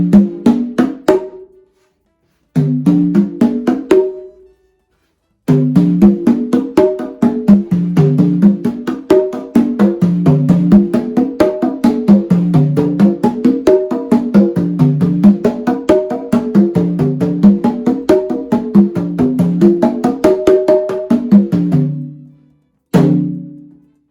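A set of congas including the small high-pitched requinto, struck in quick, even runs sweeping from low to high pitch and back in rolling waves, loud and close, with short pauses between passages and no voices.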